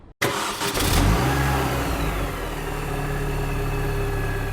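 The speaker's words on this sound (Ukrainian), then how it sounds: "Приїхав з проблемою троїд двигун на холостих обертах" A car engine fitted with added gas equipment runs rough at idle, misfiring while running on petrol; it starts up with a brief rising rev and then settles into a steady, close, uneven idle with no one speaking.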